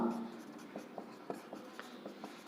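Handwriting during a Class 7 maths lesson on cost and selling price: soft, scratchy pen strokes in a quick irregular series, close and faint, after a brief bit of voice at the start.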